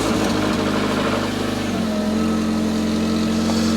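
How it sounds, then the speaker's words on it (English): Fiat 500 convertible with a Dualogic automated gearbox priming, a loud steady engine hum joined by an electric pump whine that shifts pitch partway through, heard close. "That is the gearbox priming, in case you didn't know."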